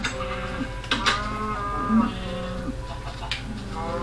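Sheep bleat in the Minecraft video game, several wavering calls over a few seconds, fairly loud against steady background game noise.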